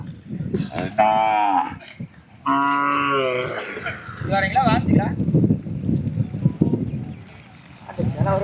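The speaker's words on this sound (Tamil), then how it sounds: "பெரப்பம்பட்டியிலிருந்து கொண்டு வந்திருக்கக்கூடிய ஒரு பெருங்கோட்டு நாட்டு மாடு" Native Kangeyam cattle at a busy cattle market, including a long-horned native bull, give several loud, drawn-out moos close by, mixed with people talking and crowd murmur in the background.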